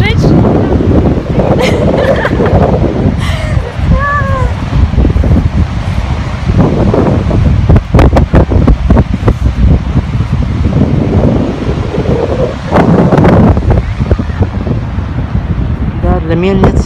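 Strong summer wind on a San Francisco beach, a loud, constant roar buffeting the microphone throughout, with voices briefly audible under the gusts.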